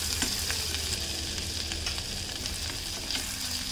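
Chopped ginger, about a tablespoon, sizzles steadily in a pan over a medium flame while being stirred for a baby corn soup, a continuous bright crackle with faint scraping clicks throughout.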